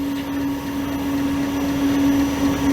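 An ice cream machine churns a batch of honey lavender ice cream, giving off a steady, close motor hum that drones on without a break, with no talking.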